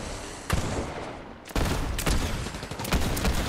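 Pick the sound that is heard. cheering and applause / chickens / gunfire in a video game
gunfire in a video game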